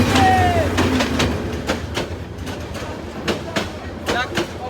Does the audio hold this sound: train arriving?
yes